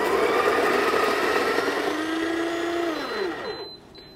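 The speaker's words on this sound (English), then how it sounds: "And then I'm gonna grind that out." A coffee grinder grinds a small dose of Mario Enero natural Geisha coffee beans with a steady, loud motor whine. The whine drops in pitch and winds down near the end.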